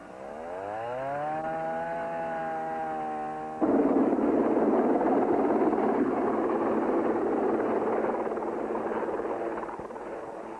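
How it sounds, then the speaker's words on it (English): Panamanian helicopter flying in supplies over the Darien Gap jungle, a steady loud rotor and turbine drone that swells abruptly partway through and continues alone without voices. "a Panamanian helicopter ended our 25 days wait at Ipiti, flying in new axles, tires, and beer"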